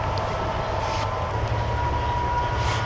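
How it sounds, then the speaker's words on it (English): Train passing in the background near a winter woodland campsite, a steady low rumble with a faint sustained tone, distant and continuous throughout, with no talking. "And there's the train in the background."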